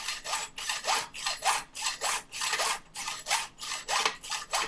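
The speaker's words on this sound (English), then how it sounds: "a few rubs and that'll be off" Rhythmic back-and-forth rubbing, about a dozen strokes, as a file grinds down the excess length of metal rivets, close and steady.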